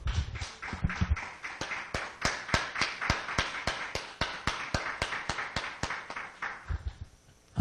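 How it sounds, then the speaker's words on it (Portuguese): A church congregation claps in steady unison, a brisk, even beat of sharp handclaps repeating about four times a second for several seconds before stopping, with no talking over it. "Vamos dar uma salva de palmas para ele?"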